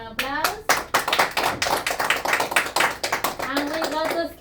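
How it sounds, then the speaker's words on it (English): A round of applause at a game night, with many hands clapping in quick, uneven bursts close by and a voice talking briefly at the start and end. "Alright, we got a round of applause."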